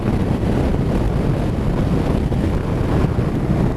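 Wind buffets a rider's helmet on a 2019 BMW R1250RS motorcycle with the screen raised, a loud, constant low roar filling the whole stretch with no let-up and no voices.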